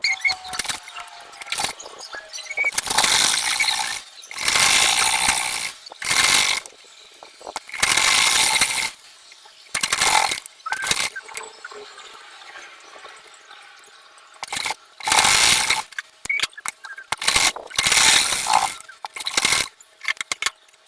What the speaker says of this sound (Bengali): এই জন্য এই পায়ের অংশ এখন সেলাই শুরু করব